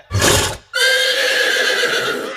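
During a stage drama, a horse gives a loud short snort-like burst, then a long, clear neigh that slowly fades, close and alone.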